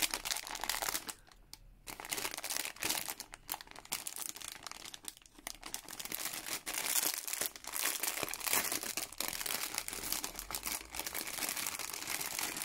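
Close, continuous crinkling of a plastic bag with velcro as it is handled, loud and busy throughout with brief pauses.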